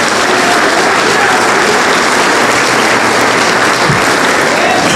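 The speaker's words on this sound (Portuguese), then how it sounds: "Pode aplaudir a Jesus." A church congregation applauds at a Portuguese-language evangelical service, a dense, steady wash of many hands clapping from start to finish, loud and close with no speech over it.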